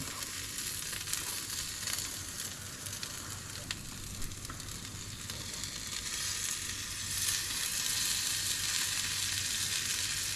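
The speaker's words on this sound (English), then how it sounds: "put ample proportions of the garlic butter on" Garlic butter sizzles and spits on crayfish cooking over a barbecue, a steady close frying crackle with a faint low hum beneath, growing slightly louder toward the end.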